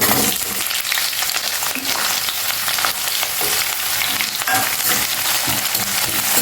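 Onions and green chillies hiss and crackle as they fry in peanut oil with curry leaves, a loud, dense sizzle running steadily throughout with occasional stirring scrapes and no talking.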